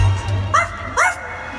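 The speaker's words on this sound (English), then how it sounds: "Where is that dog?" A dog, a ghost dog in a Disney Halloween show, gives two short, close yipping barks about half a second apart over a low background hum.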